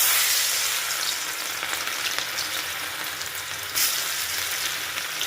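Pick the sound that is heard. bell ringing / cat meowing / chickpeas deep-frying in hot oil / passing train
chickpeas deep-frying in hot oil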